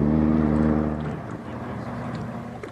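In a radio play, a motorboat engine drones steadily on the water and fades gradually as the clip goes on. Faint sounds sit over the hum.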